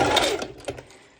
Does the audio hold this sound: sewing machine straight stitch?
yes